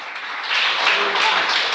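A church congregation applauds, a dense wash of clapping that starts moderately and grows fuller and louder within a second or two.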